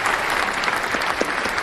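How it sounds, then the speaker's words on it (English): Steady, dense clapping from a room crowd at a podcast taping, fairly close and sustained throughout with no voices on top. "Let's hit a round of applause, man"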